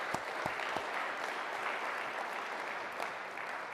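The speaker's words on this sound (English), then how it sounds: "Let's give the people who made this all happen from this institution a big round of applause as well." A large audience gives a round of applause at a formal speech in Philadelphia, steady dense clapping heard at a distance and fairly quiet, with a few sharper individual claps near the start.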